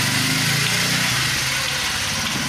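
A motorcycle engine runs nearby, a loud, steady, rough putter with a pulsing low rumble and no one talking.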